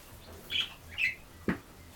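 A cockatiel parrot gives three brief, sharp chirps spaced about half a second apart, fairly quiet against a calm indoor background.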